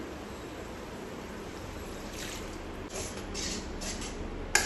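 Milk and water pour steadily into a vessel, a soft continuous splashing stream that swells slightly toward the end, with no talking.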